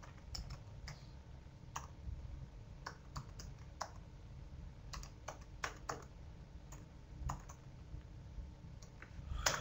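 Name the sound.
typing a URL on a computer keyboard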